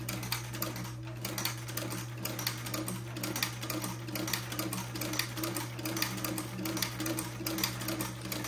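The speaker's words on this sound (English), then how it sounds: "I will start sewing my next buttonhole" Sewing machine fitted with a vintage buttonholer stitching a buttonhole, a steady fast rattling whir of needle strokes running continuously at moderate, close volume.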